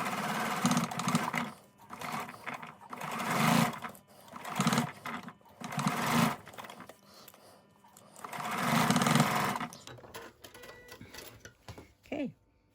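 A sewing machine bastes fabric tabs for a round rice bag in several loud, rapid stitching bursts separated by short pauses, ending in quiet handling noise.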